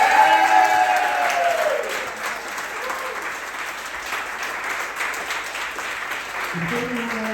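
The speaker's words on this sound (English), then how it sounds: "Let's all give a huge round of applause to Sylvia." Audience applause for Sylvia at a live science comedy gameshow at the Adelaide Fringe, a dense crowd clapping loudly at first, then fading a little and holding steady with voices rising near the end.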